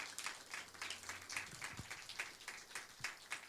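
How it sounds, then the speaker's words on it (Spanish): A church congregation applauds during a Spanish-language service, with steady, dense clapping that continues for the whole stretch at moderate loudness, with a few stray voices mixed in. "Demos un aplauso a Dios por la vida de nuestras anfitrionas."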